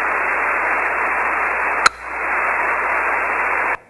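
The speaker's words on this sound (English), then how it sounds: "That little chirp is a 9 millisecond transmission from my sensor." A ham radio picks up an insulin pump sensor's transmission: steady, loud static hiss broken by one sharp, very brief chirp near the middle, then the hiss cuts off abruptly.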